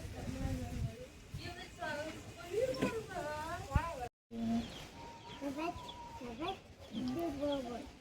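Chicken clucks mixed in with steady talking, several short bird calls rising over the voices throughout.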